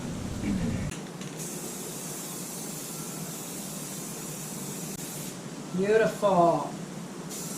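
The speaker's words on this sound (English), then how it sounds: "This is such good paint, you guys. 2x Ultra Cover Rust-Oleum." Rust-Oleum 2x Ultra Cover spray paint hisses from the can onto plastic motorcycle panels in an indoor corridor, a steady, close spray running for several seconds under a brief spoken remark.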